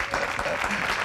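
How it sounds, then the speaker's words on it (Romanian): A studio audience on a Romanian TV talk show applauds in a steady, moderate clatter of clapping hands. "Aplauze, bis, vă rog frumos"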